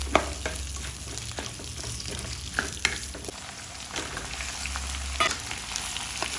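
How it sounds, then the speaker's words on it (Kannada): Onion, tomato, garlic and green chilli frying in oil for a boti (goat tripe) gojju curry, a constant close sizzle with repeated scraping and tapping of a spoon against the pan, no one speaking. "ಈರುಳ್ಳಿ ಟೊಮೊಟೊ ಬೆಳ್ಳುಳ್ಳಿ ಎಲ್ಲ ಫ್ರೈ ಮಾಡ್ಕೊಳ್ತಾ ಇದ್ದೀನಿ"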